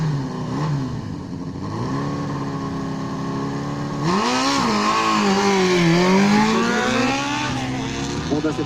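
A slightly modified Yamaha 750 XM motorcycle, rebuilt with used parts, runs loudly and continuously, its engine note swelling and rising as it revs harder about halfway through, then wavering up and down.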